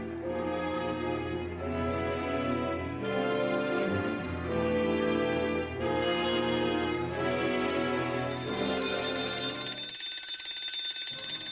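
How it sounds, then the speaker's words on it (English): A loud electronic alarm sounds continuously in steady pulsing bursts, then shifts to a higher, shriller ringing tone near the end. "The alarm was sounded"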